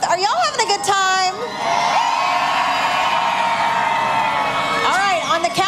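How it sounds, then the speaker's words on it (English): A parade crowd at the Fort Worth Parade of Lights cheers, whoops and yells loudly as one sustained roar, with higher shouts rising above it at the start and the end. "We love to hear how excited the crowd is here"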